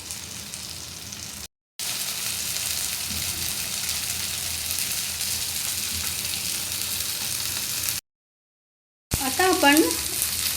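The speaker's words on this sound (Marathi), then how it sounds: "बोंबील दुसऱ्या बाजूने परतून घेऊया आणि फ्राय करूया" Bombil (Bombay duck) fish frying in a pan with a loud, dense, continuous sizzle, broken by two brief silent gaps, and a few clattering knocks near the end.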